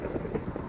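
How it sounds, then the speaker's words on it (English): Rain and thunder in the video game Minecraft, a steady hiss of rainfall with low rumbling swells beneath it, heard alone and fairly close with no talking. "Oh, it's raining."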